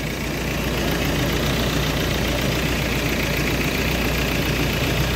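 A Ford Everest engine idles steadily after being started, a continuous low rumble with a faint high whine, close and loud, with no voices over it.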